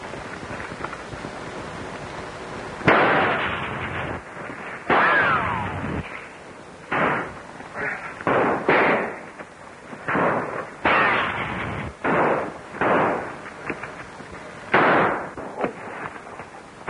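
Gunfire from a battle scene bursts out in repeated volleys of loud, sharp shots and crackling rifle fire, coming in irregular clusters over a constant background rumble, with no voices.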